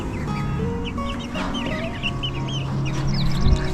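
Specialty breed hens on a homestead cluck and chatter close by in a steady, overlapping stream of soft calls, with no talking.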